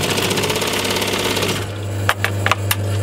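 A sewing machine stitches beige piping onto a waterproof garden seat cushion, running in a steady fast mechanical whir that stops partway through, followed by a few sharp clicks and thumps close by.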